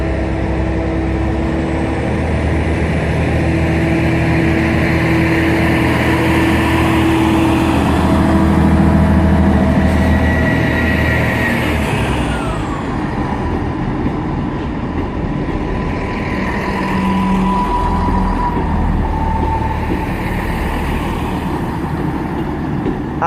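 An Arriva Trains Wales passenger train bound for Birmingham International starts up and pulls away from the station at Shrewsbury, its diesel engine droning loudly and rising in pitch as it departs, with a steady rumble throughout.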